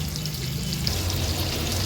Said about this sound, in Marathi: सुरुवातीला मी हाफच कोलंब्या ह्या तेलामध्ये सोडल्या